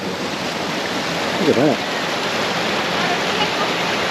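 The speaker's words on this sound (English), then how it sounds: "So got all the standing water here, but it's all just flowing down the hill." Water running downhill over rocks in Girraween National Park, a steady broadband rush filling the whole clip, with a brief spoken remark partway through.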